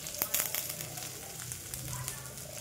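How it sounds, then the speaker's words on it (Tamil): Chopped onion and curry leaves sautéing in hot oil, a soft, fairly faint sizzle with scattered little crackles and spatters over a low continuous hiss. "இது நல்லா பொன்னிறமாக வர வரைக்கும் நல்லா வதக்கி விட்டுருங்க."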